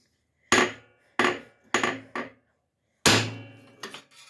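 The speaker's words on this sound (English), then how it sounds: "I got a better hammer this time." A hammer strikes a pry bar set against a bolt head on a Briggs V-twin engine, six sharp metallic blows in uneven clusters, close and loud, each ringing briefly before fading.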